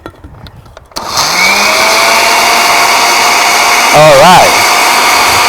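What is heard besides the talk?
blender blending fruit and honey for popsicles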